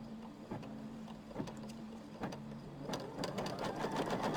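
An embroidery machine stitches a fabric placement line with a steady rhythmic whirring hum and regular needle taps, close and moderately quiet, its pace quickening slightly toward the end.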